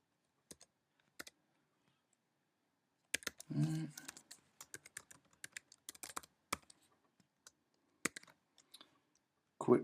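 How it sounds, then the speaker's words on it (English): Login details are typed on a computer keyboard in short, irregular bursts of crisp clicks separated by pauses, close and fairly quiet, with a brief murmur of speech in the middle and a louder clack at the end. "I'll just type in my information and blur this out or scroll this down"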